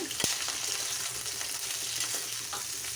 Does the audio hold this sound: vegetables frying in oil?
yes